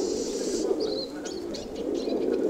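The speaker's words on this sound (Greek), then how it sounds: "Ούτε την άνοιξη δεν πυρώνουν έτσι τα πουλιά." Pigeons or doves coo softly in short, low phrases against a steady, noisy background at a bird show in Naousa.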